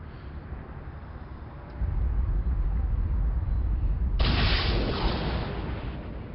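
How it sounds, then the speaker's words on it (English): A sniper blast superpower fires in City of Heroes, a sudden broadband burst partway through that swells over a steady rumbling game background and trails off slowly, with no talking. "Yeah, sniper blast."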